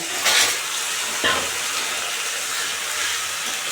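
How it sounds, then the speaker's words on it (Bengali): Tengra and bottle fish are stirred in a frying pan, giving a steady close sizzle with two brief scraping stirs near the start. "এখন বোতল মাছ আর ট্যাংরা মাছ দিয়ে দিলাম দিয়ে আমি একটু নেড়ে ছেড়ে নিলাম"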